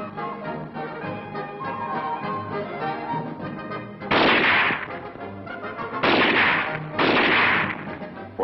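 Rifle fire at an army ski and shooting meet: three loud, broad cracking bursts that come after several seconds of music and stay under it.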